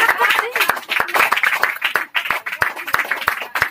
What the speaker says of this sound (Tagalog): Palakpakan natin ang Panginoon, mga kapatid